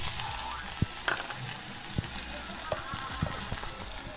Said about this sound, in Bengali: তেলটা প্রচণ্ড গরম হয়েছে গোটা জিরে দিয়ে দিলাম আর রুমের কটা কেটে রাখা শুকনো লঙ্কা আর দিয়ে দিলাম পেঁয়াজ কুচি